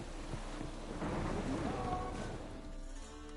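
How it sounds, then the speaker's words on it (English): Steady rain and a low storm rumble fill an outdoor scene in the video game The Witcher 3, forming a continuous, moderately loud wash with no voices. "A storm, damn it."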